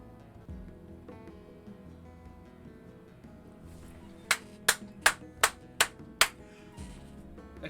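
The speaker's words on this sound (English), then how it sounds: "I should probably not clap so loud" Six sharp hand claps in quick, even succession, loud and close, standing out against a quiet background hum.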